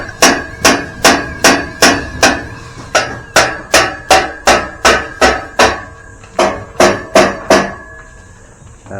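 A hammer chips at concrete on a driveway building site in the Philippines, striking in sharp, evenly spaced loud blows, about two per second, close by with no talk.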